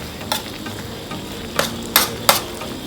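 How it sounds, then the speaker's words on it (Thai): Beef curry with pickled bamboo shoots stir-fried in a pan, a soft sizzle under four sharp spatula scrapes and knocks, the last three coming in quick succession. "ผัดแป๊บเดียวเองเนี่ย ประมาณ 5 นาทีได้ครับ"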